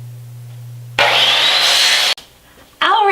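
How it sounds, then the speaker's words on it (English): Miter saw set at 45 degrees cuts wood trim for a photo collage frame: a low motor hum, then a loud one-second burst of blade whine and sawing, a brief drop, and the motor surging loud again at the end. "We're going to set our miter saw at 45 degrees."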